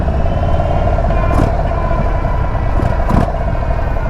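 A loud, continuous rumbling engine and wind roar come from an Indian Sport Chief motorcycle being ridden, with no pauses and no talk.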